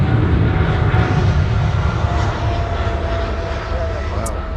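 A Cathay Pacific jet airliner on the runway at Sydney Airport gives a steady, loud, broad engine rumble throughout, with voices talking over it.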